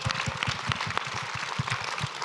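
Audience applause at a React conference panel, a dense steady patter of many hands clapping for the whole stretch, moderately distant and with no talk over it.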